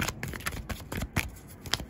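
Tarot cards are shuffled by hand, a close, soft riffling flutter of slaps and rustles over about two seconds, without talk.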